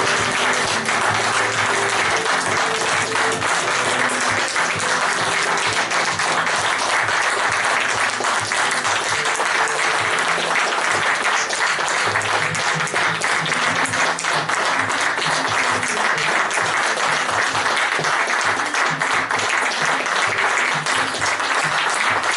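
A theatre audience applauds a play, sustained and loud, with a steady wash of clapping that holds evenly for over twenty seconds with faint tonal music or voices underneath.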